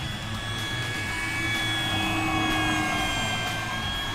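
FMS F4U Corsair 1700mm RC model plane flying past, a steady high electric whine with sustained tonal pitch, loud and continuous, swelling slightly as it passes.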